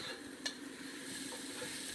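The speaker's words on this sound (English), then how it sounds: "let's stir that in" Chicken enchilada filling stirred in a pan over low heat, a soft steady scraping and gentle sizzle with a single light clink of the utensil, quiet and close.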